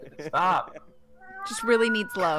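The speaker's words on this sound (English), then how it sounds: "is it an old cat?" A cat meows indoors amid people chatting during a tabletop role-playing game session, the short feline cry tucked between overlapping voices.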